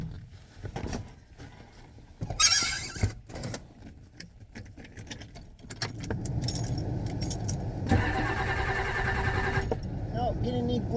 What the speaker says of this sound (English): I'm going to go ahead and start the truck.